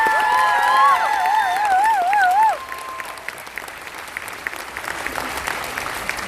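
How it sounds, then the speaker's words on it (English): Crowd applause and cheering ring out for cosplayers at the MCM Manchester 2019 masquerade, a loud burst mixed with whistles for about two seconds, then settling into steady, quieter clapping through the rest. "I think one more round of applause because they were amazing."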